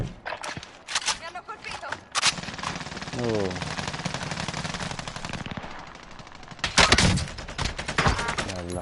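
Rapid machine-gun bursts and single gunshots from a PlayStation 4 shooter game, loud and dense, stopping and restarting with heavy volleys near the end, with voices talking over the firing.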